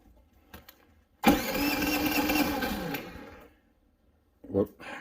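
A Predator 3500 generator fitted with a Nashfuel tri-fuel conversion bursts into a loud, close roar for about two seconds during a starting attempt, then dies back to near silence before a brief knock.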